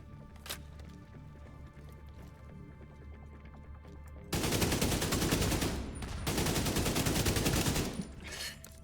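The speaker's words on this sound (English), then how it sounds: "Launching grenade." A grenade launched in a video game lets loose a loud, dense burst of blasts and rattling fire that swells abruptly partway through, holds for several seconds with a brief dip, then cuts off after quiet game ambience.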